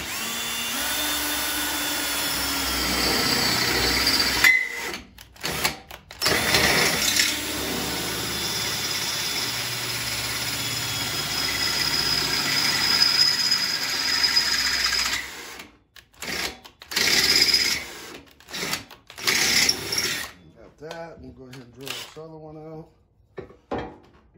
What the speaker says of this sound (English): we'll go ahead and get this one drilled out